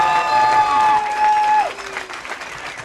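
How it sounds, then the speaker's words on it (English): Crowd applause at a Ron Paul political rally: scattered, moderately loud clapping from a gathered audience lasting a few seconds and gradually thinning out, with a sustained tone fading early on. "So another round of applause to the folks here at McCormick and Smith."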